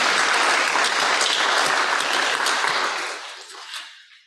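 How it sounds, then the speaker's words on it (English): Audience applause fills a church service, a dense even clatter of many hands that thins and fades away over the last second. "Let's give another round of applause"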